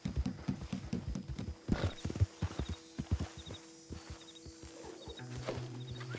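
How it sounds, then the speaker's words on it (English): Horse hooves clattering in a rapid, uneven gallop in the Red Dead Online video game, loud and close, with brief game sounds and a short spoken word partway through. "Just look at this idiot trying to ram us with his horse."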